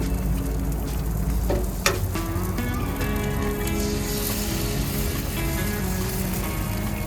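Eggs frying on a Blackstone griddle give a steady, close sizzle with a soft clink of a utensil scraping the flat-top near the start.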